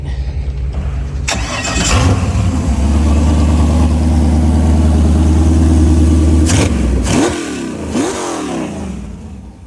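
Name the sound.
boat engine starting and running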